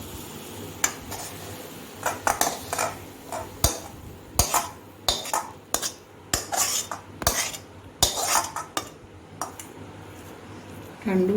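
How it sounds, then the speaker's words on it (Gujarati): A spoon scrapes and clinks against a pan and bowl as coconut ladoo mixture is scooped out, with irregular sharp metallic taps and scraping bursts, close and moderately loud over a quiet room tone. "હવે આપણે એને બાઉલમાં કાઢી લઈશું."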